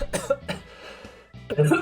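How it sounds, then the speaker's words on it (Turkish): Several harsh coughs from a sick person in a short cluster, close and loud, with a brief pause before a final rough cough. "Öksürüyorum arkadaşlar kusura bakmayın."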